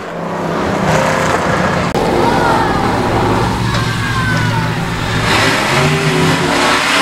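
Race cars at an I-37 Speedway oval accelerating at the green flag start, a loud, sustained roar of several engines rising in pitch as they pull away, dense and continuous throughout.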